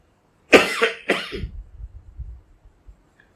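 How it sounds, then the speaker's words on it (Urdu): A man teaching a Quran tafseer class coughs twice in quick succession, two close, fairly loud bursts followed by quiet room tone. "ورنہ آپ لوگ بھاگ جاتے ہیں میرے کھانسنے پر"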